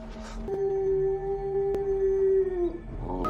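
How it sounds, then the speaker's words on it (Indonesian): A wild dog howling in a film scene, one long sustained tonal howl with a few brief yelps around it, clear and fairly prominent rather than distant. "mendengar suara gonggongan anjing liar di kejauhan"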